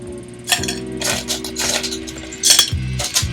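Ice cubes drop and clink into a metal drink shaker while making a peach cocktail, several sharp rattling bursts over steady background music.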